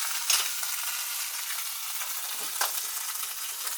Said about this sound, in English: we're going to throw in a little piece of butter into our pan